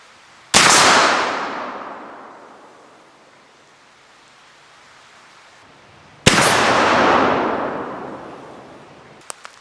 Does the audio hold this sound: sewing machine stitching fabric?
no